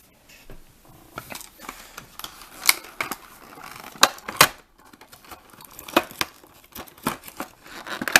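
The plastic HP grip of a Mega Man PET toy comes out of its packaging amid sharp crinkles, plastic clicks and rustling taps in irregular bursts, heard up close without any voice.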